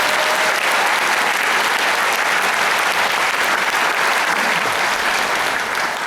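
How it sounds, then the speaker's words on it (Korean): A large audience applauds at the opening ceremony of the 20th Jecheon International Music & Film Festival, with dense, loud, continuous clapping that fills the whole stretch without a break. "성인이 된 우리 제천 국제 음악 영화제를 위해서 박수 한번 부탁드리겠습니다"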